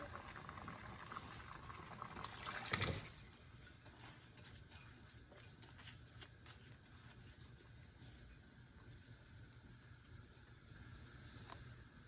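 Water is poured into rice in a cooking pot for prawn pulao, with a short, louder rush of liquid early on that settles into a steady, quiet bubbling simmer. No one speaks.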